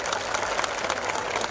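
Crowd clapping at a rally for Matang community reservation demands, a brief dense burst of applause that stays loud throughout, with faint crowd murmur.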